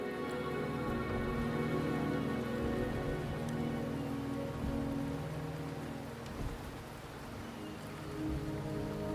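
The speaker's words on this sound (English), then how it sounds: "The rain is subsiding, and the sky will soon clear." Steady rain pours in the Wuthering Waves video game, a dense, constant hiss of drops on surfaces with faint rumbles of thunder and no talk over it.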